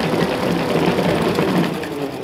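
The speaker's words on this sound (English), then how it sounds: "I'm just going to dry them in a salad spinner." A hand-cranked salad spinner whirs as it spins freshly washed salad leaves, giving a loud, continuous rattling rotor hum that holds steady throughout.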